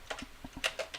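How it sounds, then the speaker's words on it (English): Someone types a short message on a computer keyboard, producing a quick, uneven run of about eight crisp, close keystrokes with no talking. "I'm going to type Mary had a little"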